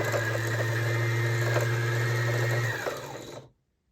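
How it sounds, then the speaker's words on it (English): A sewing machine runs steadily while winding thread onto a front-loading bobbin, a loud, continuous motor whir with a low hum that slows near the end and then cuts off into silence. "you can see the thread automatically going up and down. And that creates a nice, even roll onto the bobbin."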